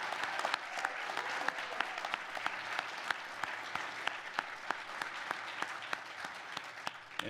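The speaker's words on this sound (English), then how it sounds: "another round of applause, please, for our most recent commissionees" A crowd at an Army ROTC commissioning ceremony applauds newly commissioned second lieutenants. The clapping is continuous and moderately distant, with sharper individual claps standing out in the wash.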